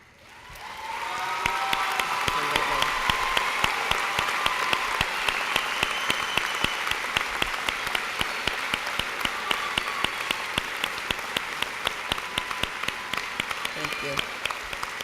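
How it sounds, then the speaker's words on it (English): Sustained applause from a graduation audience standing for graduates heading into the military, dense steady clapping filling the hall for about fifteen seconds after a quiet start. "A well-deserved round of applause is a way to say thank you"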